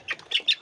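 Farm birds give three short, sharp squawks in quick succession, close and loud against a quiet background.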